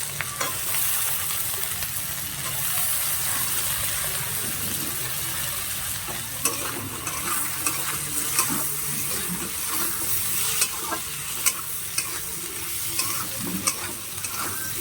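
Diced potatoes frying with shrimp in a hot pan: a steady, close sizzle with occasional sharp spatula clicks and scrapes, no voices.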